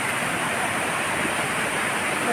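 Kaunayan Falls in San Luis, Aurora, heard up close as a steady, dense roar of rushing water, loud and unbroken, with no voices over it.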